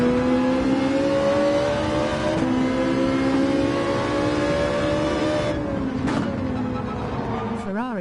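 Ferrari race car engines droning in Gran Turismo 7, a sustained loud whining engine note holding steady and then wavering near the end, with a voice speaking over it.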